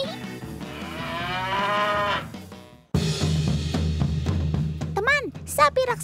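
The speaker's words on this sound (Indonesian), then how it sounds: "Sapi simental dari kandang sumber ternak farm yang ada di Bekasi." Large Simmental cattle at a farm in Bekasi mooing loudly nearby, one long drawn-out low moo followed by further lowing calls and bleat-like cries, with a person speaking in between.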